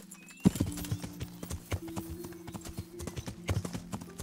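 A horse's hooves clip-clop in a quick, steady rhythm in the medieval video game Kingdom Come: Deliverance, close and clear over a low droning game backdrop.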